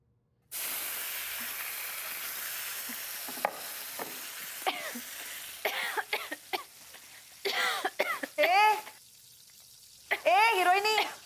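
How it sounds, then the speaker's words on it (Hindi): A woman coughs several times in quick, separate bursts, close and fairly loud, against a steady background hiss, with people talking between the coughs. "मैं तो ऐसे साइड में खांस रही थी।"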